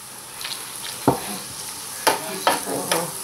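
Bacon and cooked ham frying in a pan for carbonara, a steady soft sizzle with a few sharp scraping stirs from a utensil, close up and with no talking.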